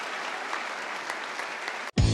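An audience claps steadily for a group of scholarship award recipients, a dense even wash of applause lasting nearly two seconds before cutting abruptly to a different loud sound.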